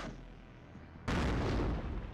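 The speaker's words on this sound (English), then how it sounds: "there's main cannon shots though" A tank's main cannon fires in the WARNO video game: a sudden loud boom cuts in over a low rumbling battle background and rings on for about a second.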